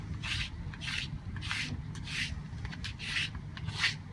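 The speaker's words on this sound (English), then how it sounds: "You can use a tool such as like the rib tool and just kind of scrape those off." Metal rib tool scraping crusty dried clay off a rolling pin, six rhythmic rasping strokes at close range, fairly soft, with no talk.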